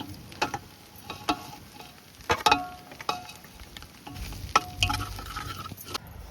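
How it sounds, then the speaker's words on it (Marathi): Masala fries in hot oil with fried onion for a village-style country chicken curry, a low crackling sizzle broken by sharp scrapes and taps of a spoon against the pan. "मसाला तळून घेतला"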